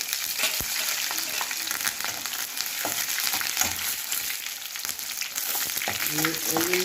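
Mustard seeds, dried red chillies and garlic tempering in hot oil for gongura dal; a dense continuous sizzle with scattered crackles and pops, close and steady throughout, no talking.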